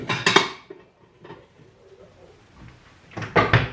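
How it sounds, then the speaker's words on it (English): A pan from a camping stove being put away, with metallic clatters and knocks of cookware at the start and again near the end, separated by a quieter stretch of faint handling. "I'll put that pan back away."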